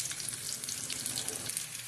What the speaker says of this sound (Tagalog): gigisa lang muna natin siya o medyo iprito ng konti para mabango naman siya